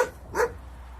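A single short dog bark rings out at a rundown shelter in Kastamonu that once held nearly ninety dogs, fairly close and alone against a quiet, hushed background.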